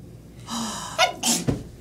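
A single close, loud sneeze with a sharp indrawn gasp leading into the burst, heard on its own without talk.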